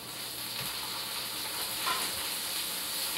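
Tomatoes frying in a pan with garlic paste for an Indian curry-tomato onion spice blend, giving a steady, fairly close sizzle that runs unbroken from start to end with no talking.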